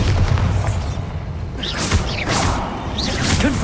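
Bombarda spell blasts in Hogwarts Legacy, several loud booming bursts with whooshing swells and short sparkling tones in a rapid string of combat effects.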